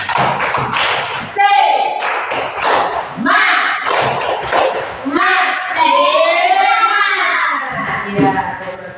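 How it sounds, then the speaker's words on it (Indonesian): Schoolchildren in a classroom do a rhythmic spirit clap, loud patterned claps and thumps mixed with children's chanting voices over several seconds. "Coba dulu, tepuk semangat."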